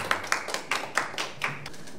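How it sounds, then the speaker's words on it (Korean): A few people clapping at an award ceremony for a human rights and peace writing contest, sparse, distinct claps in an uneven rhythm, fairly close in a quiet room. "뜨거운 박수 부탁드리겠습니다."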